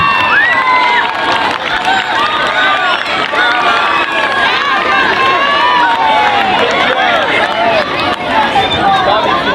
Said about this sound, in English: Give our 4th through 6th graders a big round of applause